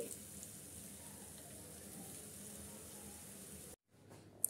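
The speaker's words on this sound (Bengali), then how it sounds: "বাকিগুলো আমি একইভাবে দিয়ে দিচ্ছি আর এভাবে গোল্ডেন ব্রাউন করে ভেজে নিচ্ছি" Potato pakoras deep-fry in hot oil with a steady, dense sizzle that carries on evenly, close up, then cuts out abruptly near the end, followed by a faint brief clatter.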